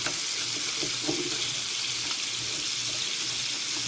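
Scallops frying in butter in a hot pan give a steady, close sizzle, a continuous hiss with faint crackles and no talking.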